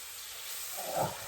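Butter hits a hot pan with sugar and sizzles in a steady hiss, swelling briefly into a louder bubbling burst near the end, heard close up and alone.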